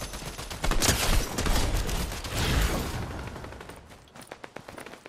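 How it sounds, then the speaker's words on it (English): Gunfire from players in the Fortnite video game: several loud bursts of rapid shots, each lasting about a second, followed by scattered fainter single shots that trail off toward the end. "Hey, there's someone shooting us."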